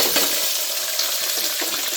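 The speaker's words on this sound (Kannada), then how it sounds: "ಈರುಳ್ಳಿ ಹಾಕ್ಕೊತಾ ಇದ್ದೀನಿ." Onion frying in hot oil with mustard seeds and fennel in a pan for a vegetable pulao, a dense, steady close sizzle with light stirring scrapes, no talking.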